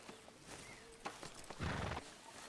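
A horse in the Red Dead Redemption 2 video game snorts and shuffles quietly, then gives a louder breathy whinny near the end.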